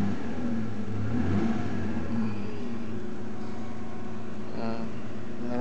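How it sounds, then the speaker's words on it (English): A four-wheel-drive vehicle's engine idles as it warms up, holding a steady mid-pitched hum that is loud and close at first and then settles into a smooth, even drone, with no speech. "Now I'll let that idle until it warms up"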